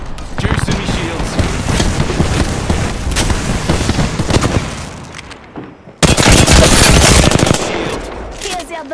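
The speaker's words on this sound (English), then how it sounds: "I'm getting shot at." Loud automatic gunfire in Apex Legends, a long rattling stream of rapid shots that dips briefly and then bursts back in louder and denser.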